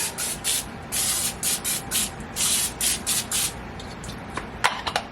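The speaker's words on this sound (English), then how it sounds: "And then I just spray the edges a little bit." Short spray bursts from an aerosol can coating the edges of round cake pans, a quick run of close hisses with pauses between, then a few softer taps and rustles at the end.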